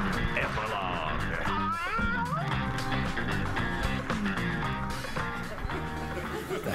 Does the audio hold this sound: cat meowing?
yes